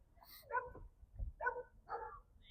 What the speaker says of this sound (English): That's a dog.